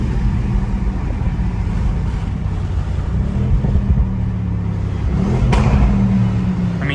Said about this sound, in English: 30 to 80 in a split of a second? I mean, you get some downshifts.